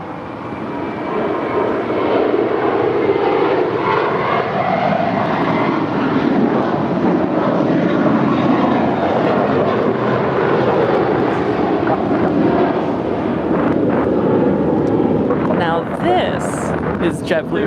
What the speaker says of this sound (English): That is American Airlines flight 423 coming in from Boston.